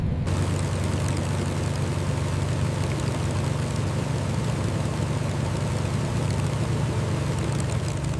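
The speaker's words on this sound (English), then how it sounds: "Mustang is cleared for takeoff, circuit at your discretion." A P-51 Mustang piston engine running steadily before takeoff, a continuous low droning rumble at even level throughout with no voices.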